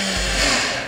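A blender whirs loudly up close, grinding labuyo chili peppers with added water into a paste, a brief steady motor roar with a slight pitch shift near the end.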